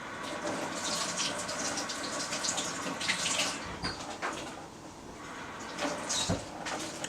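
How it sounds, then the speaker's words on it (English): Tap water runs steadily into a kitchen sink while fish is rinsed off someone's hands during codfish fritter preparation, a continuous close splashing gush with small shifts in flow and no talk. "let me wash the fish off my hands."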